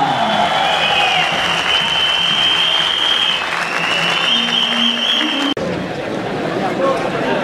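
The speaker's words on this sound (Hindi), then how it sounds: "जोरदार तालियां" A large audience applauds continuously and loudly, a dense wash of clapping that carries on without pause, with a brief click partway through.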